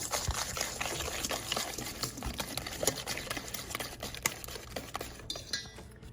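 Eggs and sugar whisked together for a chocolate cake batter, a continuous close scraping and clinking of a utensil against a bowl with quick irregular strokes, no voices.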